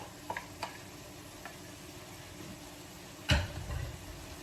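Chicken fajitas frying in a pan, a low steady sizzle with a few light taps, then a louder burst as vegetables drop into the hot pan and the sizzle swells, close and without talk.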